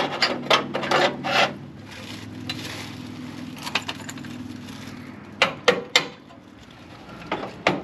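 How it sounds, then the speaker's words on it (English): Grinding a weld off a 1966 Ranchero frame repair patch: close, intermittent rasping bursts of abrasion with brief gaps, fading between passes, no talk. "I'm going to grind that weld off there now and see what it looks like."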